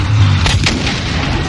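A tank cannon fires in the video game Battlefield V amid a tank battle. Heavy, booming blasts and rumble stay loud and dense throughout the short burst.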